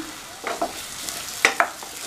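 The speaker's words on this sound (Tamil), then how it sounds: "ஒரு சின்ன நெல்லிக்காய் சைஸ் அளவு புளியை வந்து ஊற வச்சு கரைச்சி வச்சுருக்கேன் அதை சேர்த்துடலாம்" Soaked tamarind extract poured into sautéed vegetables in a pan for sambar, giving a couple of short splashy sizzles and stirring sounds, each pair of bursts close and brief against a quiet kitchen background.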